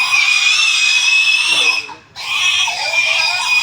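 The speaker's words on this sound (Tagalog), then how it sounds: "Hayop na baboy ah." A piglet squeals loud, shrill and close, with sustained screams that break off briefly in the middle and then resume.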